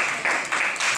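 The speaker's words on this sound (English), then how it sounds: "Give yourselves a round of applause." A class of people applauding themselves, a short, dense burst of many hands clapping at close range, steady with slight pulsing swells and no talk.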